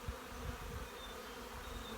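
Honey bees buzzing over a pollen-filled hive frame during a queen castle start-up, a dense, continuous close hum with no voices.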